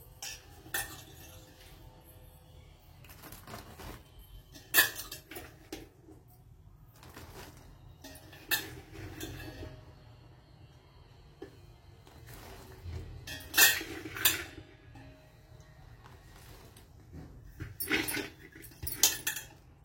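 Cut raw mango pieces tumble into cooled pickle masala for kairi lonche, with repeated soft clinks of a spoon and steel dish and thuds of the fruit landing, rising in short bursts over a low steady hum.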